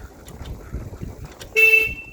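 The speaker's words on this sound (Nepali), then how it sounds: "झर्ने बेला चाहिँ हर्न बजायो भने त्यस्तै गर्छ" A single loud vehicle horn honks for about a third of a second near the end, heard over a low background rumble.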